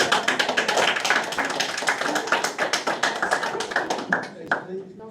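Applause breaks out among the audience at a public session of a mayors' council meeting, steady close clapping that thins out toward the end, with a voice talking over it.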